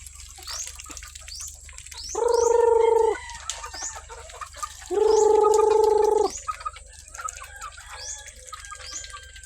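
Ducks and other poultry kept on a farm feeding in the morning, two loud sustained bursts of duck quacking or gargling calls up close, with softer clucks and bird chirps scattered around them.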